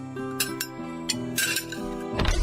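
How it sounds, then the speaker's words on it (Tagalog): Plates and cutlery are set down on a dining table at home, making a busy run of close ceramic clinks and metallic chinks that continue throughout with no talking. "maglagay na tayo ng mga plato at kubyertos dito sa lamesa"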